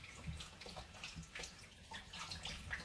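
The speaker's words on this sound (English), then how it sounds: "Knead it about under the water to get the fabric soaking up the compound that's now basically in the water." Fabric kneaded by hand in water with dissolved bicarbonate compound, giving faint soft sloshing and gurgling splashes in an uneven rhythm, quiet and close.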